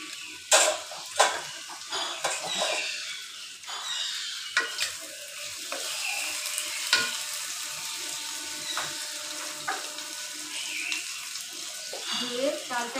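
Rice being stirred in a pot of boiling water, with scraping stirs, bubbling and splashy clinks in irregular bursts close up, alongside occasional quiet talk.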